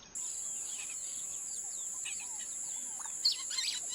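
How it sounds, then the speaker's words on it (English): A mockingbird calls with a run of quick chirps and sweeping whistled notes over a constant high electronic whine, fairly faint. "That was a mockingbird, also known as the cactus killer."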